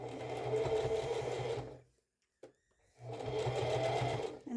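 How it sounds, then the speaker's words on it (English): Sewing machine stitching along the edge of a pajama top collar, running in two steady bursts with a short quiet pause between them, close and alone. "I'm going to stitch right here on the edge"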